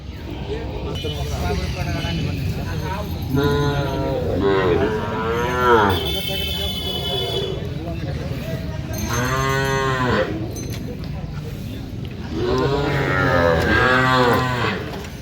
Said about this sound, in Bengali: আমরা একটু দেখবো গরুগুলো কেমন দামে কিনলেন